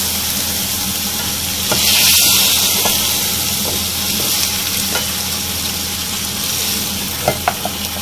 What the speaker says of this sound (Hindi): अच्छी तरह से इन सब चीज़ों को साथ में भून लेना है।